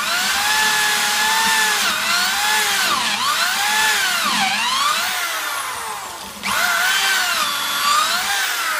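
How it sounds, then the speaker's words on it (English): A power drill with a pocket-hole bit whirs loudly up close in a benchtop pocket-hole machine, its pitch rising and dipping as it bores through wood, pausing briefly before spinning up again. "now we'll put a drill bit, pocket hole drill bit in, and we'll drill this out"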